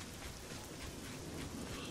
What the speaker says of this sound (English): Oh, rain. I hate rain.